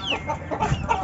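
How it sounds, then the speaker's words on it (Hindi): A brief burst of close clucking from Aseel hens being caught, several short calls running together at moderate volume. "असील वाली मुर्गियाँ पकड़ता हूँ"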